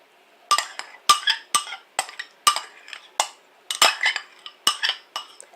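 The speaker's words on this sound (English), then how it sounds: "I'll just whisk it up a little bit here" A whisk beats oil and vinegar dressing in a bowl, producing quick bursts of clinking metal-on-dish scraping in an uneven, repeated rhythm, close and clear with no talking.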